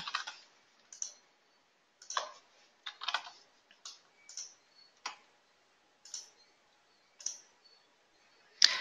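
Quiet computer mouse clicks, around a dozen separate sharp taps at uneven intervals, close by against near silence.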